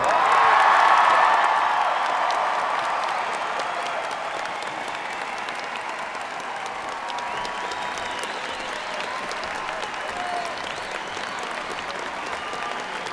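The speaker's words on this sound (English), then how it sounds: "One more round of applause for Mr. Greenwell." Crowd at a high school graduation ceremony applauds, loudest at first then settling into steady, somewhat distant clapping with scattered cheers and whoops across a large hall.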